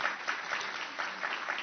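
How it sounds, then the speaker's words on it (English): An audience at a tech conference applauds a speaker, dense steady clapping heard at moderate level and slightly distant, with no voices over it. "Big round of applause for Karima."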